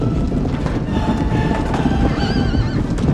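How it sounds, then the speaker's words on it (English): Horses heard up close: a loud whinny rises over a dense, steady rumble of hooves and movement, with a wavering neigh standing out toward the end. "the sounds of thousands of horses running echoes"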